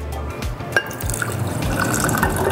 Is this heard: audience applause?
no